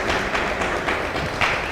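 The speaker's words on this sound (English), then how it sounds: "let's give them a big round of applause" A crowd clapping steadily at an ISKCON Los Angeles temple gathering, a dense wash of applause at moderate distance that continues without break.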